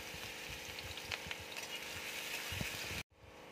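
Chopped ginger and garlic frying in hot mustard oil in a kadai, a steady close sizzle with soft stirring scrapes, cutting off abruptly near the end.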